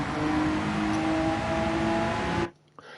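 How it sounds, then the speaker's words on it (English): A Honda NSX hybrid racing around the Autopolis circuit in Gran Turismo 7 gives a loud, steady engine drone that holds for a couple of seconds before cutting off abruptly, leaving near silence and a faint click. "Oh, this car is loud."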